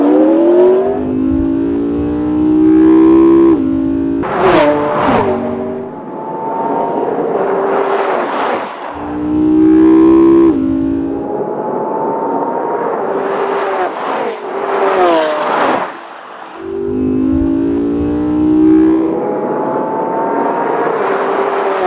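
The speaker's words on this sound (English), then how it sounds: "Lexus V10 screaming like a Formula One car" A Lexus V10 and a McLaren drag race down a quarter mile, the V10 screaming at a Formula One-like pitch as engines rev hard through repeated rising gear sweeps, loud and sustained with no talking.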